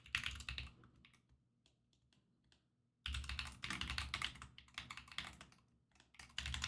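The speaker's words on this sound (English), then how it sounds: "Let me type it up in chat." Someone types into a chat on a computer keyboard: dense, rapid key clatter in two bursts split by a short quiet gap, close and crisp with no talking.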